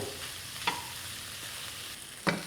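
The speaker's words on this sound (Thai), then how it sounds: "รอแป๊บหนึ่งให้กุ้งอีกด้านหนึ่งสุกจากนั้นเราก็ค่อยพลิกกุ้งอีกทีหนึ่ง" Shrimp frying in a pan make a continuous soft sizzle, broken by two distinct sharp clacks of a utensil against the pan as the pieces are turned.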